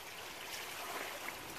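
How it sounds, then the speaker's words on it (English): River water flows steadily below, a soft, continuous hiss of moving water with faint gurgles, quiet and even for the short span, with no voices. "Down there is a big river."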